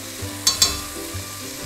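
Canned tomato hits a hot frying pan during a pan-fried fish fillet sauce, giving a steady soft sizzle with a couple of sharp stirring scrapes, close and alone.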